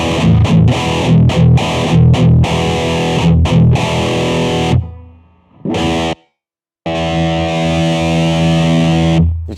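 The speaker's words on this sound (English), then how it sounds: "That sounds like a fuzz box." Donner MultiPad-100 with a fuzz box distortion effect, heavily saturated buzzing tones played in short choppy bursts, then sustained notes with a brief cutout and an abrupt silence before resuming loud and close.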